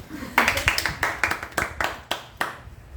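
A class of social work trainees claps for a newly named class leader, a small group of hands producing sparse, uneven claps with distinct individual slaps over about three seconds, close and fairly loud.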